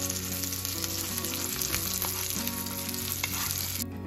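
Pork chops frying in a pan with thyme, sizzling steadily and close with a constant hiss, while a utensil occasionally stirs and scrapes through the fat.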